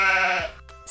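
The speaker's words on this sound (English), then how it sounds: "said the sheep," Animated sheep bleating in a picture-book farmyard scene: one loud, wavering, drawn-out baa heard alone, ending with a brief soft sound.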